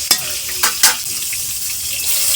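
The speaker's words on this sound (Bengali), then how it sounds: "এখন হচ্ছে বেগুন ভাজা চলছে" Eggplant frying in hot oil in a home kitchen, a steady soft sizzle with a few sharp clatters of a utensil stirring the pan early on.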